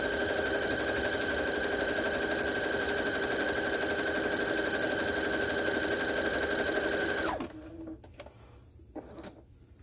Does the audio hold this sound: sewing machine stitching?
yes